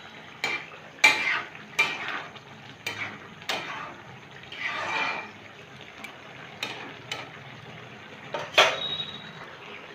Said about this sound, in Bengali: খিচুড়িটা একটু নেড়ে দিতে হবে যাতে তেলটা ভালোভাবে সমস্ত জায়গায় মিশে যায়